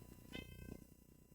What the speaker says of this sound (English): Oh, I just heard the cat meow.